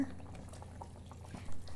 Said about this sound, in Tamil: தேங்காய் விழுதை சேர்த்து தேவையான அளவு புளிக்கரைசலையும் ஊற்றிக்கலாம்